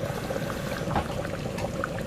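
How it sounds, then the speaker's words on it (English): Water pours steadily into cornstarch in a kitchen while chili is being made, a close, continuous liquid trickle and splash with no voices. "I'm going to add some water to that."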